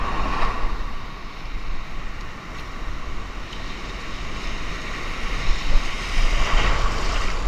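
Ocean surf rolls and crashes steadily with heavy wind buffeting the microphone, a continuous loud wash of waves with no talking.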